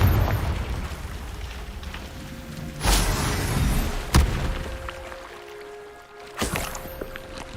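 Confringo fire spell explosions in Hogwarts Legacy: several sharp blasts with rumbling low tails over a steady murmuring background, the strongest hits spaced a few seconds apart.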